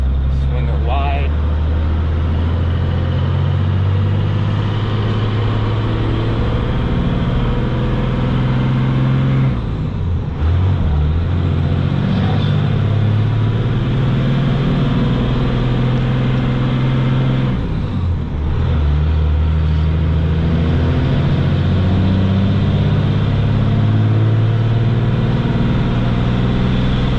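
A hotshot rig pickup truck's engine pulling up a slight hill through shifted gears, a loud, steady cab-interior drone with two brief dips in revs around gear changes, heard alone without talking.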